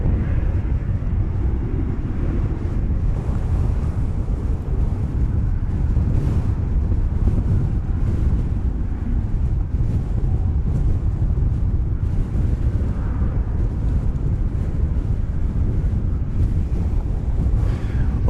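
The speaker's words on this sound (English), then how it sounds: "Gust of wind blowing just as that plane touches down." Wind gusts across the microphone at DFW airport as a plane touches down, making a steady, loud, broadband low rumble and rush that continues throughout with no speech.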